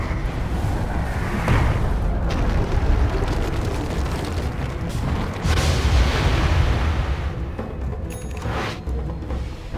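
Continuous battle noise from a Dota 2 match as Radiant's middle tower comes under attack: dense, loud rumbling blasts and impacts layered without pause, with sharper bursts rising around the middle and near the end.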